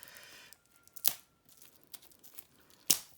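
A parcel is torn open by hand without scissors: two sharp, loud paper rips, with soft rustling and crinkling between them, close to the microphone.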